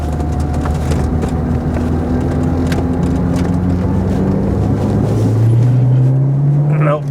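A 1987 Renault 5 GT Turbo Phase 1 slowing into a roundabout and dropping into second gear, a loud, close engine drone that climbs steadily in pitch as revs build, with someone talking over it throughout.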